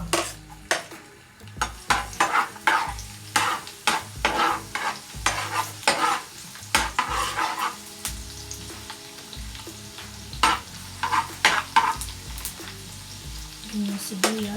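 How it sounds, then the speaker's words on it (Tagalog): Garlic sautés in a pan with a sizzle, while a utensil clatters and scrapes against the metal in frequent sharp knocks. A faint voice talks briefly. "Start na po tayong maggisa."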